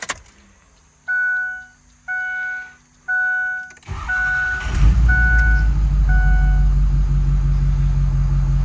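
A Ford 6.0 truck backs down a driveway: three loud, evenly spaced reversing beeps sound over a quiet idle, then the diesel engine rumbles up and the beeps continue, quieter, beneath the steady engine noise.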